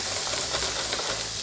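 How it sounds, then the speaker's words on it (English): Steady, loud sizzling and hissing of vegetables stir-frying with salmon in a hot pan, with faint scraping as they are stirred. "hopefully we'll get it all to sizzle"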